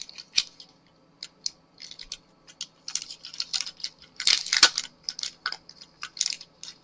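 Scissors cut out paper in a run of short, crisp snips, some single and some in quick clusters, close up with no talking.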